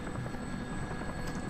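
A helicopter in the video game Urban Chaos Riot Response drones with a continuous, steady rotor and engine rumble, moderately loud and unbroken throughout, with no voices.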